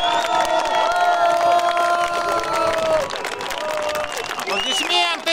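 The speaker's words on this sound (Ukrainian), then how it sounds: "Поаплодировали!" A large outdoor crowd at a street rally in Slavutych applauds, cheers and whoops loudly for several seconds, with shouting voices mixed throughout.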